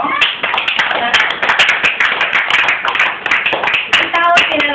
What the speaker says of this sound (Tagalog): So, palakpak ang parangal.